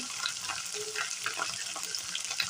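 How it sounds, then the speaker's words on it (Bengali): Spice paste of salt, turmeric and red chili powder frying in a pan for alur dom, a steady close sizzle with faint stirring scrapes throughout. "এখানে আমার মশলাটা প্রায় ভাজা ভাজা হয়ে গেছে"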